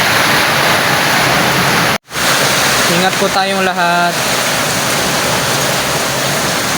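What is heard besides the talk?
heavy rain outside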